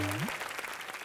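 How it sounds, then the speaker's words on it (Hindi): Brief burst of audience applause in a comedy entertainment show, a short dense patter of clapping with a tonal sound sliding upward at the start. "जोरदार तालियां"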